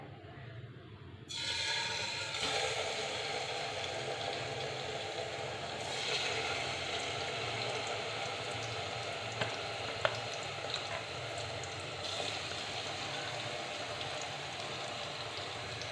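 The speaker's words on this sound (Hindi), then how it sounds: "ये देखिए चिकन जो है वो फ्राई हो रहा है।" Chicken frying in oil in a karahi, a steady dense sizzle and crackle that holds at even loudness from start to finish after a quiet first second, with a few small pops.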